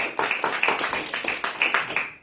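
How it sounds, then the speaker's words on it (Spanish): A church congregation claps in a steady, rhythmic beat during a sermon, the claps landing in quick, even bursts at close range. "¿Por qué no dan un aplauso al Señor?"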